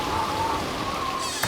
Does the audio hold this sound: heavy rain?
yes